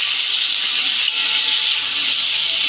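Raw green banana pieces hitting hot oil seasoned with panch phoron and dried red chilli, giving a steady, close, loud sizzling hiss that holds evenly with no voices.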